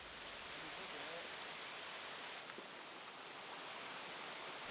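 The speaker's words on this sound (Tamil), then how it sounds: "தண்ணி எல்லாம் நிறைய போயிட்டுருக்கு" Steady broadband rush of plentiful water pouring through the Sengal dam lake, a constant even roar with no breaks, heard from a moderate distance without anyone talking.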